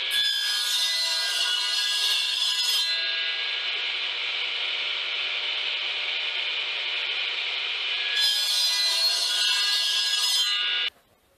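A saw cuts wood blocks set against a stop block, one long continuous rasping run with a louder burst at the start and another near the end before it stops abruptly.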